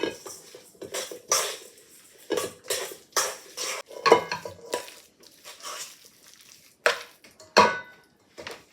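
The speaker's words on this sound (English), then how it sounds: "Now I'm going to stir it." Homemade chicken salad mixed with mayo is stirred in a bowl, giving a steady run of close scraping and clinking strokes of a utensil against the dish in an irregular rhythm, with no talking.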